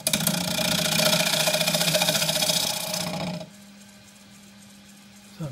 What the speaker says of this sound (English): I'm going to take this one off with the wing of the bowl gouge